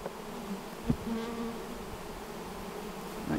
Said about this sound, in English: We'll get our scoop of bees.